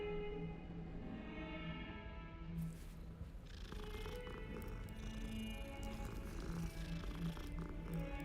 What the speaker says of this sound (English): It's a cat with leopard spots.